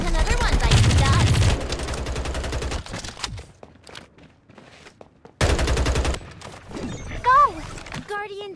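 Rapid automatic gunfire in the battle royale video game Farlight 84 comes in loud dense bursts, with game voice lines and effects in between and a player talking.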